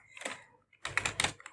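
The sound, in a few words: typing HTML code on a computer keyboard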